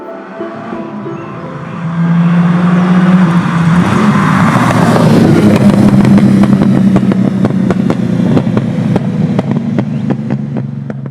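A 1969 Lamborghini Miura P400S engine grumbles at idle, then swells into a louder, throaty roar after a couple of seconds and keeps running steadily up close.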